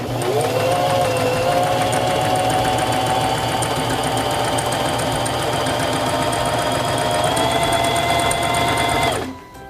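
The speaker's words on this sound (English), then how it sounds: "press your foot control to begin sewing" A SINGER 3232 sewing machine stitches a fabric test piece, running loud and steady with a continuous whirring drone and rapid needle rhythm for about nine seconds before stopping abruptly.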